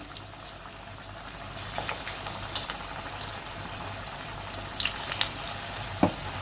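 Spinach bhaji (palak pakora) batter frying in hot oil, a steady crackling sizzle throughout with a few sharper pops near the end.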